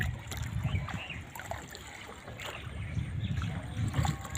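A small wooden boat crosses a river, with low rumbling water and hull wash rising and falling steadily throughout and faint wind in the background, and nobody talking.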